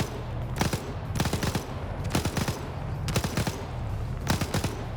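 Repeated bursts of automatic grenade machine gun (GMG) fire in a military video game, several rapid volleys of sharp thumping shots spaced through the stretch over a steady low background rumble, fairly loud and close.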